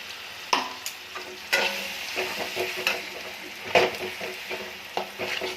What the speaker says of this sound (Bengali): মশলাটা ভালো করে একটু কষে নেব।